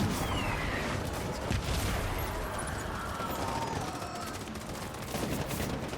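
Battlefield gunfire in the video game Death Stranding: a dense, continuous crackle of distant rifle and machine-gun fire with rumbling booms, sustained and fairly loud throughout without speech.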